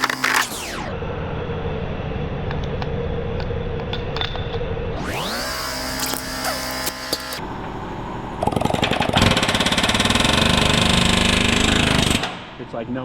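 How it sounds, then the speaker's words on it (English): An air hammer pounds on a stuck suspension part during control arm and knuckle work on a 2024 Toyota RAV4 hybrid, with loud rapid pneumatic hammering in several long bursts that start and stop, close by, with brief talk between bursts. "Let's see if I can knock that out with the air hammer real quick."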